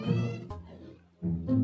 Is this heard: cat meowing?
yes